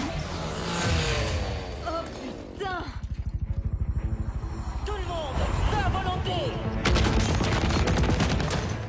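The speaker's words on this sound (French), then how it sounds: "Tout le monde, feu à volonté!" Bursts of automatic gunfire and rapid shots rattle through a firefight in the video game Gears of War 4, mixed with whooshes and rumble while voices talk over the action.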